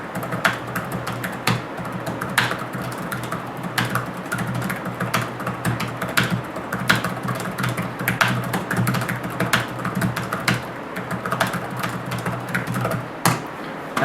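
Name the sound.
laptop keyboard typing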